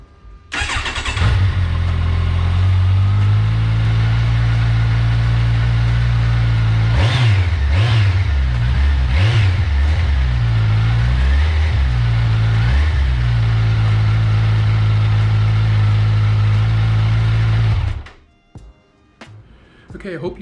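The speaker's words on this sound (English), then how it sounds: "Now here's the sound of the new exhaust." A Kawasaki motorcycle fitted with a new slip-on exhaust idles loud and close, blips the throttle in several sharp revs, settles back to a steady rumble, then cuts off.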